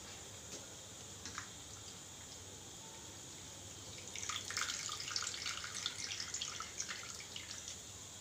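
Water squeezed by hand from grated potatoes trickles and drips into a bowl, a soft splashing run starting about halfway through and continuing to the end in a quiet kitchen.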